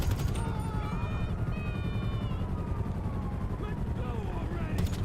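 Police open fire in GTA V, a steady stream of shots layered into busy game noise with a voice speaking over the action throughout.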